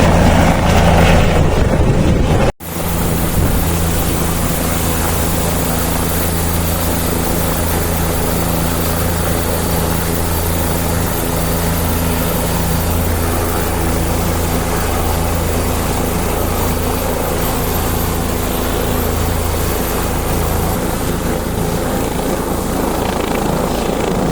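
A helicopter on a joyride for women passengers in the Induri area of Maval gives a loud, continuous whir of rotor and engine that drowns out other sound for nearly the whole stretch, after a brief initial break.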